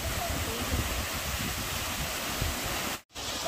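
Continuous wash of falling water from the swollen Yeogung waterfall on a mountain trail: dense, even hiss and churn close by, cutting out briefly near the end.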